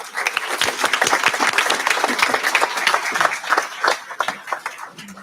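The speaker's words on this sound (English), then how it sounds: "give a big round of applause for Sandy and Betty" A graduation audience at an HSED/GED ceremony breaks into applause as two honorees are brought up, with lively, uneven clapping from many hands that swells and dips without pause.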